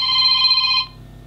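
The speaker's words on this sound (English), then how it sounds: "you can then change the ringtone to the one that you want" A Google Nexus 5 smartphone plays a ringtone, a loud, clear electronic tone lasting under a second before cutting off to quiet room noise.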